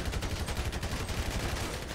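Rapid, continuous gunfire from a weapon in GTA V, a dense rattling stream of shots at steady volume throughout.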